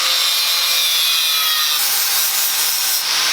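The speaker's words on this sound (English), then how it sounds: "So I'm gonna cut this tab off" A power cutting tool grinds steadily through a metal tab on a Kawasaki KLX110 motorcycle frame, a loud continuous abrasive whine with no talking.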